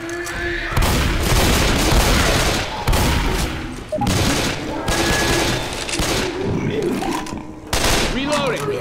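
Loud bursts of automatic gunfire in Left 4 Dead 2, several sustained volleys broken by brief pauses, with booming impacts and voices shouting under the shooting.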